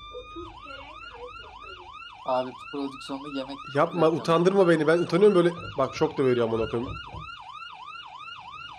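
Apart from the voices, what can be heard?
ambulance siren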